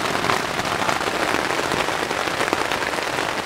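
Rain falls steadily in Indonesia, a dense, even hiss of drops hitting surfaces, continuous and close with no voices.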